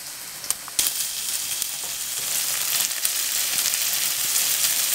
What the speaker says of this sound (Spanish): acá ya estamos friendo la papita